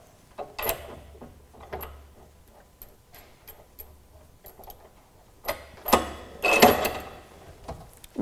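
Forklift drum rotator ratchet being released at the front of the unit, giving a series of light mechanical clicks and ticks followed by a louder metallic clatter near the end, heard close up with no talk.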